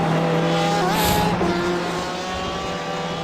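GTE race cars, including a Porsche, racing at Sebring in iRacing, with a sustained engine drone and shifting pitch as a car passes close, plus a brief squeal near the middle.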